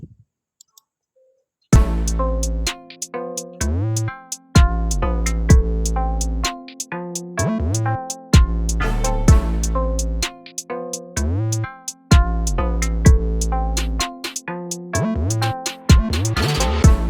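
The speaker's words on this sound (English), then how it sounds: "if I play it with the effects and the riser and the cymatic roll," A loud UK drill beat with booming sub bass, crisp ticking hi-hats, snappy hits, a riser and a snare roll, repeating in steady bars after a brief quiet start, no voices.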